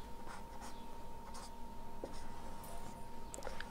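Pen strokes scratch out a matrix equation on a writing surface, soft intermittent scribbles close to the microphone over a faint steady hum, with no talking.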